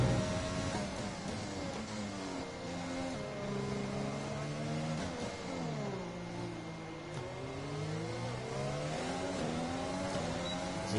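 A race car engine in a racing video game drones as the car heads into the pits, its pitch sweeping up and down with shifting revs in a steady, moderately loud whine.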